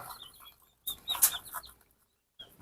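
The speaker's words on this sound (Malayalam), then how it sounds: "ഇത് നമുക്ക് ഒരാഴ്ച പ്രായമുള്ള ടർക്കി കുഞ്ഞുങ്ങളാണ്" High, thin chirps from one-week-old turkey chicks in short bursts separated by silence, close by.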